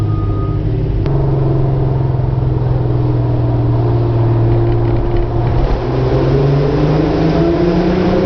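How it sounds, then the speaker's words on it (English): A Lamborghini's engine drones and revs steadily as it drives past on a road trip, a continuous loud motor hum with rising and falling pitch, heard from inside a moving car. "that Lamborghini sounds good"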